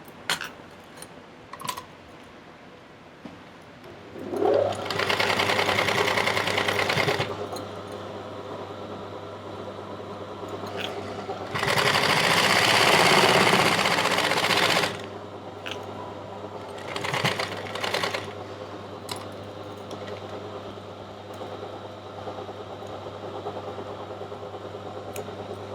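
A sewing machine stitches the pocket of a ladies' pant, running in several bursts of steady mechanical whirring, close up, with short pauses and small clicks between runs.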